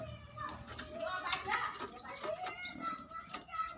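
Pigeons in a loft, male and female, coo and flutter close by, with repeated soft calls over a busy background, and a person talks throughout.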